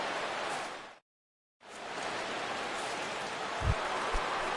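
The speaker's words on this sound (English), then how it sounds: "Rain continues to fall here in the 6th." Steady, rushing rain hiss falls continuously in a PS4 baseball game, dropping out completely for about half a second before resuming, with a couple of faint low thumps near the end.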